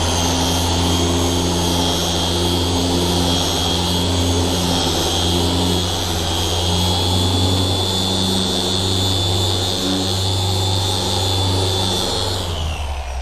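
A car paint polisher runs at high speed under heavy pressure, a loud steady whine with a low hum, continuous and close, cutting off at the end.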